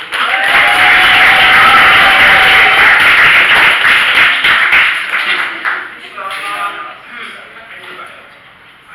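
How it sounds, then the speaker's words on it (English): A live audience at a poetry reading applauds, cheering and clapping loudly for several seconds before the applause thins out and fades. "Please give yourselves a round of applause"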